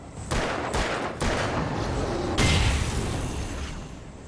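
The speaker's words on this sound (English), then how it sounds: "That was a good explosion." Explosion and gunfire in the Alan Wake video game: a series of loud bursts and blasts, with rapid gunshots and a heavier boom midway, continuing as rumbling crackle.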